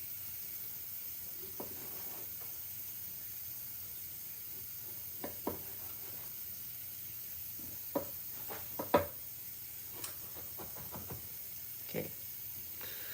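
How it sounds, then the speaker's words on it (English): A knife chops tomatoes for pico de gallo, giving sparse, irregular sharp taps on a board over a constant faint hiss, with no talking. "we're still chopping up tomatoes to make a pico de gallo for mahi tacos"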